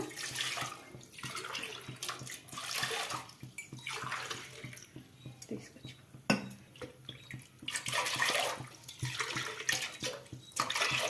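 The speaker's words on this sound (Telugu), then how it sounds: "నాలుగు గ్లాసుల వాటర్ అయితే వేస్తున్నాను" Four glasses of water poured into a cooker for jowar sangati, heard as repeated splashing bursts of pouring with short pauses between glassfuls, close and fairly loud.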